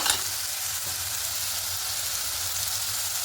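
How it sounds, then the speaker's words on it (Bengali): Onion paste sizzling steadily in a hot pan for an egg curry, a continuous broadband frying hiss with no talk. "এবার পেঁয়াজ পেস্টটা দিয়ে দেবো যে পেঁয়াজটা পেস্ট করেছিলাম দিয়ে দেবো একটু ভালো করে কষিয়ে নেব"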